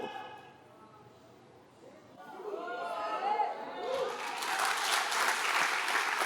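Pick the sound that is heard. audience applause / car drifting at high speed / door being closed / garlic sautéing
audience applause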